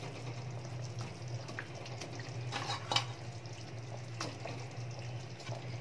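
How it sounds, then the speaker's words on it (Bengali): Chhana curry gravy for chanar dalna simmering in a pan as fried chhana dumplings are added, giving a steady low bubbling and sizzle with occasional soft stirring clinks, alone with no talk. "ঝোলটা দেখো ভালোভাবে ফুটে গেছে। এবার এর মধ্যে ভেজে রাখা বড়াগুলো দিয়ে দিলাম।"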